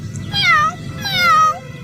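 A kitten in a Doraemon cartoon gives two drawn-out, plaintive meows in quick succession, close and clear with nothing else over them.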